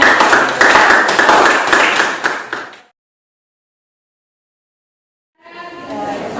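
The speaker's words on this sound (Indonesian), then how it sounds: "Tepuk tangan dulu untuk kita semua." A group of students claps together during a classroom group guidance session, a dense burst of clapping for a few seconds that stops dead, followed by a few seconds of silence and then renewed noise.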